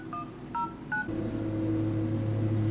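Telephone keypad dialing tones ring out as a call is placed to a Windows Phone 7 handset: a few short, clear beeps in quick succession, then a steady hum takes over.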